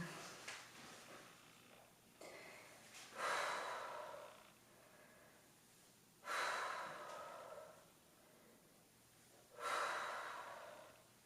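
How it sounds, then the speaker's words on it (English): Deep, slow breaths come during an upper-body dumbbell workout: four drawn-out, hissy inhales and exhales, each lasting a couple of seconds. They sound close, with quieter breathing between them. "Nice deep breath."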